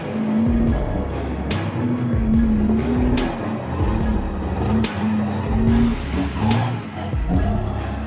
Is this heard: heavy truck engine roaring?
yes